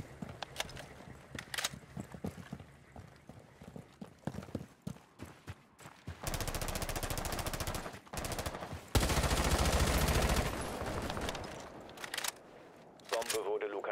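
Gunfire from Rainbow Six Siege, loud sustained bursts of automatic shots in two long stretches, with scattered sharper shots and game sounds around them and talk during the clip.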